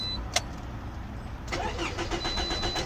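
A Toyota RAV4 engine cranks over without starting, a rhythmic, repeating churn after a brief click, fairly close and steady.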